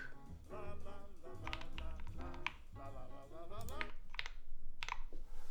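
Typing on a HEX.4B mechanical keyboard fitted with Gateron Lion switches lubed with 205 grade 0: a quick, steady run of close clacking keystrokes mixed with background music.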